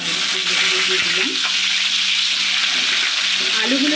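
Potato pieces sizzle steadily in hot oil with crackling cumin seeds, a loud, close frying hiss with occasional stirring scrapes throughout.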